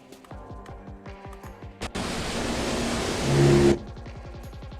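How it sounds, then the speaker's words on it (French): Ocean wave ambience for a 3D Titanic scene comes in as a loud, steady broadband wash for under two seconds, set between stretches of rhythmic, repeating clicks. "un bruit de vague d'arrière-plan que on va couper lui aussi à ce niveau-là"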